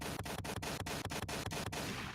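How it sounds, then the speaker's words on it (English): Stream sound effect of gunshots: a rapid run of about ten sharp, evenly spaced shots over a steady background bed, ending abruptly. "Gunshots working."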